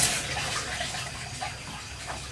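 Running water splashing as items are rinsed outdoors near a pond, a steady close gush and patter over the whole stretch, with no voices.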